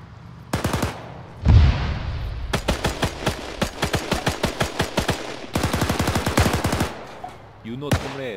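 Rapid automatic gunfire rattles through Arma 3 in a 1944-era King of the Hill match: a single shot, then long bursts of fast, loud, evenly spaced reports from about 2.5 to 7 seconds, with a brief voice at the end.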